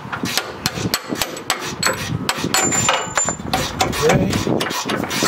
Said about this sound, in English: now we're just gonna tap this shock bolt out